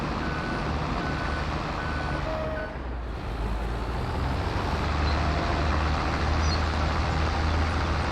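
In Farming Simulator 22, a bulldozer pushes dirt with a constant heavy engine drone and repeated reversing beeps. The sound is steady and close, with no speech.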